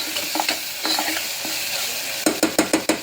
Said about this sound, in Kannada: ಸೊ ಎಣ್ಣೆಗೆ ಈ ಥರ ಹಿಂಗೆ ಫ್ರೈ ಮಾಡ್ಕೋಬೇಕು ಚಲೋ.